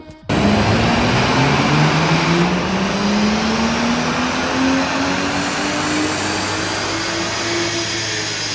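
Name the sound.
BMW M car engine revving on dyno, stock run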